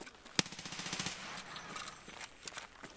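Rapid automatic fire from the player's own weapon in Escape From Tarkov, a quick rattling burst of shots with one sharp crack near the start, fairly quiet and heard alone without talk.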